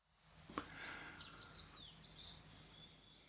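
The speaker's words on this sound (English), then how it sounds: "you may have trouble hearing the bird song in the background, which I'm going to pause and hopefully let you listen to" Songbirds chirp and whistle faintly in the background. A few short, bright calls come over a quiet, steady hiss, with one sharper note near the start.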